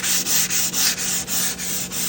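Sandpaper worked by hand over a painted wood cabinet in quick back-and-forth strokes, a bright raspy hiss pulsing about four times a second, close and steady with no talk.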